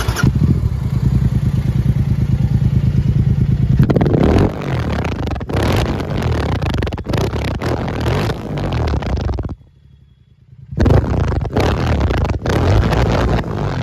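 A Royal Enfield Continental GT 650 motorcycle with about 11,000 km idles with a steady thumping exhaust, then revs repeatedly in loud bursts, briefly cuts out, and roars back up again.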